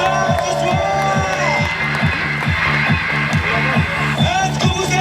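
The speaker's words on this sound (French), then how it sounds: "Je vais entendre 4000 applaudissements." A large crowd cheers and claps at a triathlon awards ceremony, loud and continuous, over rhythmic samba drumming with a voice shouting over it.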